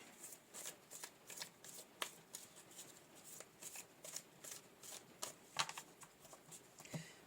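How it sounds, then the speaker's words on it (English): Quiet, crisp riffling and flicking of a tarot card deck being shuffled by hand, a steady run of soft papery slaps and clicks with no voices. "Already shuffled these really well"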